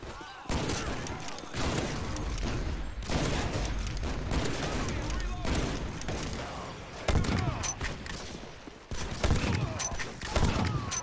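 Rapid bursts of gunfire from a free Call of Duty video game, loud, dense automatic volleys with short gaps and sharp single reports near the end.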